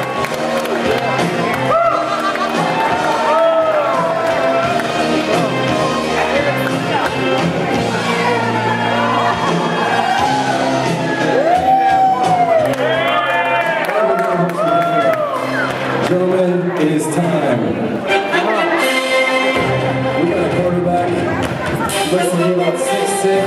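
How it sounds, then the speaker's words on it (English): Wedding guests cheer, whoop and clap during a garter toss at a reception, a steady loud crowd roar lasting throughout with shouts rising over it. "Ladies and gentlemen, please make some noise for Daniel as he goes through the Garter."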